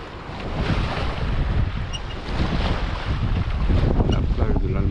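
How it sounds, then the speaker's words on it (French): Sailboat under sail off Porquerolles near Toulon, with steady loud wind buffeting the microphone and waves washing against the hull throughout, no voices. "On a essayé de faire de la voile au maximum"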